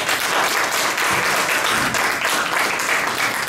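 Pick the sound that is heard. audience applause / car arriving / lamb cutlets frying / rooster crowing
audience applause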